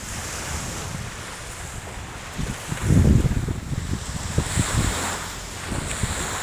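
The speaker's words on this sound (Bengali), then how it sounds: "অনেক সুন্দর দেখছেন ঢেউ খেলাচ্ছে ঢেউ ঢেউ" Sea waves break on the shore at Salmiya in Kuwait City, a continuous wash of surf mixed with wind buffeting the microphone, swelling louder around the middle and staying steady throughout.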